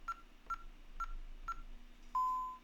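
Ademco Vista (Safewatch 3000) alarm keypad beeping as a code is entered: four short, evenly spaced key tones about half a second apart, then a longer confirmation beep, clear and close in a quiet room.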